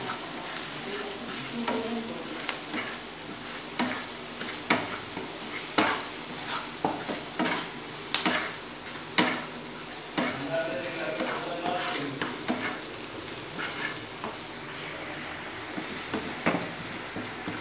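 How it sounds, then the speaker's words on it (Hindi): Masala is stirred into chow mein frying in a pan. A continuous sizzle is punctuated by regular scraping and clinking strokes of the spoon, close and fairly loud. "मसाला मिक्स कर लेंगे,"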